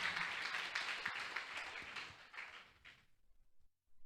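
A church congregation applauds during a service, with a broad wash of clapping that is loud at first and then fades away to near silence.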